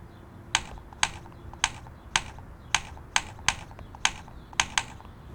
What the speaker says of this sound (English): Then tap the keyboard icon.